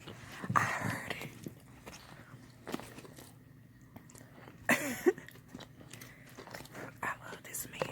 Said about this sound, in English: Give them a crunch.